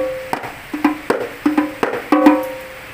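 A hadroh tam drum, 25 cm across with a female goatskin head, is struck about eight times in an uneven rhythm, each hit a resonant, ringing tone that decays quickly, played close and alone.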